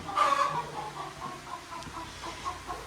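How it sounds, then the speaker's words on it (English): Hens clucking softly in a series of short, low calls, with a brief louder squawk at the start, moderately near and fairly quiet, in a stall of thirteen hens and one rooster. "We have 13 hens and 1 rooster in this front stall."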